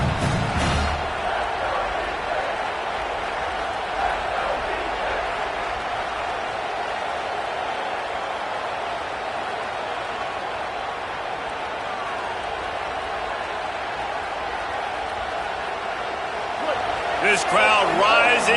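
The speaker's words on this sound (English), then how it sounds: "This crowd rising up, sensing that its defense needs some help." Football stadium crowd swelling into a sustained, distant roar that carries steadily throughout and builds toward the end, with a commentator talking over it.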